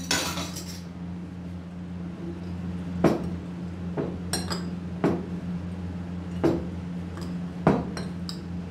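Chili flakes, roasted cumin, salt and chaat masala stirred together in a bowl, giving a handful of light, close clinks and taps spaced a second or so apart over a low steady hum.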